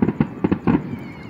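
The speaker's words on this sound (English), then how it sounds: "exploding thingies fly sky high. The shortest flying rockets." Short New Year's fireworks rockets burst in a quick run of sharp explosive pops, several bangs close together over about a second, fairly near and loud with no talking.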